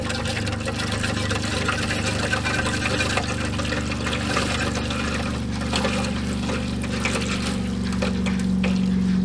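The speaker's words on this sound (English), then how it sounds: "As you can hear, air's going out the laboratory" Air sputtering and gurgling from a laboratory faucet as the water pipe refills and pressurizes after a broken pipe nipple fix, a steady rushing, trickling flow with low hum running throughout.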